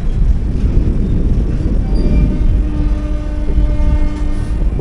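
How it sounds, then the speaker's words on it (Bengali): The Digha local train rolls into the station with heavy rumbling and clattering close by, a sustained horn tone sounding partway through. "সেই দীঘা লোকালটা ঢুকছে, আপনাদের একটু দেখিয়ে দিই"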